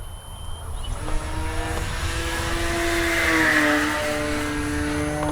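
Avios Grand Tundra V2 RC airplane flying overhead, a steady droning propeller and motor whine that rises and shifts in pitch as it passes, fairly close and continuous with no talk.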